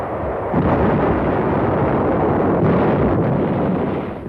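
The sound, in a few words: artillery fire from shore batteries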